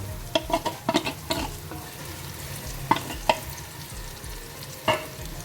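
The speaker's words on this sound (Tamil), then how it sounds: "இப்போ நம்ம ஊற வச்ச சிக்கனை போடுறோம்." Marinated chicken goes into frying chicken biryani masala in a pan, giving a low steady sizzle broken by a series of sharp scraping stir and clatter hits, clustered early then spaced out, close and fairly loud.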